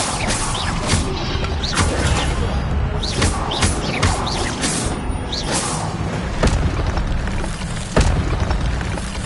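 Incendio fire spell effects in Hogwarts Legacy: a loud, dense stretch of booming blasts and whooshing bursts, with repeated sharp impacts and crackling over a rumbling bed.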